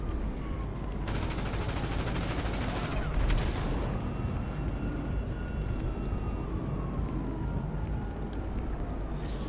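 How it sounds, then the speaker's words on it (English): Rockets fired at a target in GTA 5, with a sustained rumble of blasts and gunfire-like crackle under a dense roar and faint engine whine; a voice is briefly audible. "Oh, now I'll keep him spinning in circles with rockets."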